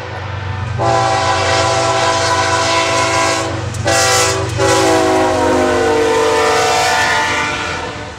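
A train horn blares loudly at a grade crossing in long sustained blasts with a brief break, sounding two long, one short and one long, over the rumble of a passing train.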